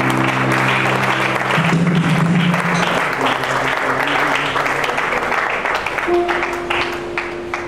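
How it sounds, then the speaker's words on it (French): A congregation claps in sustained, dense applause at a 2024 church crusade gathering in Conakry, with steady sustained tones ringing underneath throughout. "You need to clap well."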